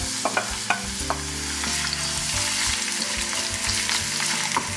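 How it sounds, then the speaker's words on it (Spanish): Onion sautéing over low heat in a pan for a chestnut and mushroom cream soup, a steady close sizzle with a few sharp scrapes and stirs and low background music underneath. "Empiezo por rehogar la cebolla."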